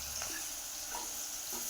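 Chopped onions sizzle in hot oil in a home kitchen pan, a steady bright hiss broken by a few soft stirring scrapes, close and alone without voices.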